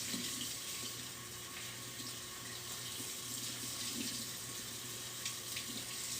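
Water runs steadily from a tap while a tie-dye shirt is rinsed under it, a constant close splashing hiss with no voices.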